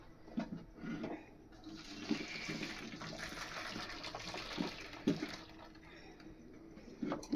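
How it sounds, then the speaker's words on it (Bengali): Water drains off freshly boiled, very soft pasta in a continuous splashing gush that lasts several seconds, with a few louder sloshes and clatters along the way. "তো আমি এখন নামিয়ে দিচ্ছি, জলটা ঝাড়িয়ে নিই।"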